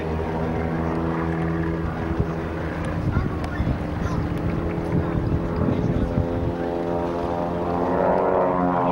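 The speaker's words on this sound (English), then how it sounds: "Both of these pits aircraft are S2Bs, they're two-seaters." Pitts S-2B two-seat aerobatic propeller biplane flying at an RAF Marham airshow, a steady loud engine drone with shifting pitch throughout, partly buffeted by wind.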